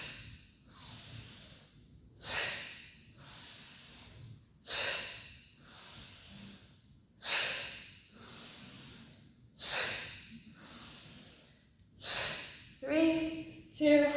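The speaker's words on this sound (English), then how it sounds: "Inhale up, exhale down." Heavy, close breathing during bodyweight squats: about eight forceful breaths in a steady rhythm, roughly every two seconds, each a sharp airy rush, with a brief vocal sound at the end.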